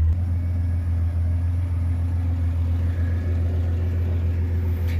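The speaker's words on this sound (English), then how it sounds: "just casually driving over these sand ruts" Jeep Cherokee 4x4 with an NV3550 transmission and 355 gears crawling over sand ruts, its engine a steady low rumbling drone heard close from inside the cab, with no talk.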